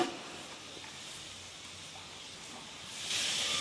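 Water heats in a pan with taro stolons, giving a soft, steady hiss that swells slightly louder near the end, faint with no voices.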